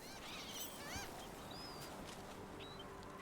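Birds in the video game Dragon Age: The Veilguard give short honking, chirping calls with a few quick rising whistles over a steady outdoor ambience, moderately close.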